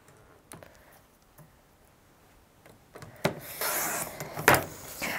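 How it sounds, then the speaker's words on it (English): Excess stencil film being trimmed: quiet scattered ticks and taps at first, then louder close rustling and scraping cuts in the final seconds, with no talking. "So I'm trimming off the excess stencil film."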